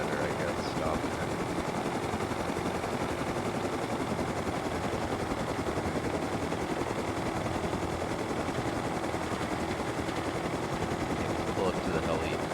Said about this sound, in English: Pull up to the heli and then come out on here